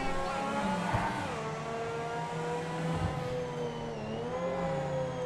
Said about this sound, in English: I just heard a supercharger whine.